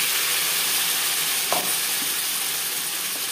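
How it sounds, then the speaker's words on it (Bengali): Spice paste of tomato, ginger, green chilli, onion and garlic fries with potatoes in a pan for an egg and potato curry, a dense steady hiss with one soft stir knock midway. "4-5 মিনিট আলু ভেজে নেওয়ার পর দিয়ে দেবো মশলার পেস্ট।"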